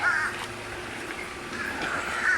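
Several birds in an aviary just after feeding, giving harsh crow-like caws at the start and end over a low steady background, moderately close.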